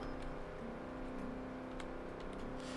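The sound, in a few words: vehicle engine roaring in a crafting video game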